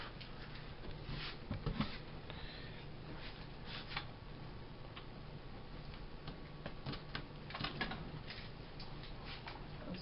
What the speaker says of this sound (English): Still peeling off tape.